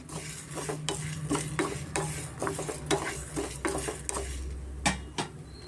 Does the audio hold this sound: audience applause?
no